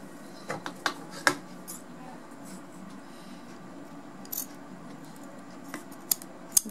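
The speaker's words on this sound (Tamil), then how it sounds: "இப்போ இதை வெட்டிடுங்க பார்த்தீங்களா" Tailoring scissors cut fabric while a zipper fly is stitched, giving a handful of crisp, sharp snips spaced irregularly over a quiet room hum.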